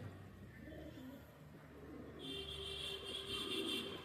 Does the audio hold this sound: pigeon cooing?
yes